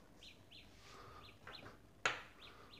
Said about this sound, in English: It sounds like birds